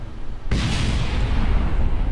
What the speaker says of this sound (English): Something exploded around me. I'm hearing explosions